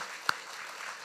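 A church congregation at a Sunday worship service applauding, a soft, diffuse wash of clapping with one sharper clap standing out, brief and moderately distant.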